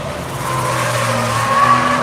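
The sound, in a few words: heavy BMW car driving hard through a race track turn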